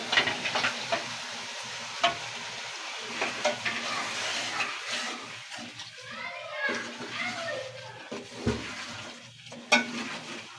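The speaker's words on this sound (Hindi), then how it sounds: "चिकन की अच्छे से भुनाई करने के बाद हम फिर इसमें आलू ऐड करेंगे।" Chicken pieces fry in masala inside a pot, a continuous close sizzle with stirring and scraping, while voices talk over the cooking throughout.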